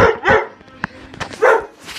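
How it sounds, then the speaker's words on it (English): Puppies bark close by indoors: a few loud, sharp barks and yips separated by short pauses, with faint whimpering between them. "these are my puppies"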